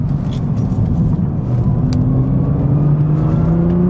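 A Nissan GTR sweeps through a corner at high speed, its engine holding a loud, steady drone with a rising pitch near the end and tyre and road noise beneath, close and alone.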